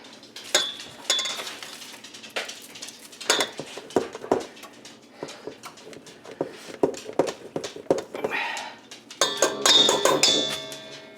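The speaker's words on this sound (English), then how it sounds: "we're just going to grate some butter in here" Butter is grated into a bowl of flour for buttermilk biscuits, making a run of close, irregular scraping strokes and clinks of metal against the bowl, louder toward the end.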